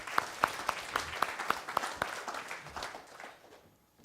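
Scattered audience applause after a question-and-answer exchange, led by one nearby person's sharp, evenly spaced claps over softer crowd clapping that thins and fades out by the end.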